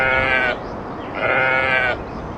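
Goats in an animated village farm scene give two loud, close bleats, each about half a second long, separated by a short pause over a low background rumble.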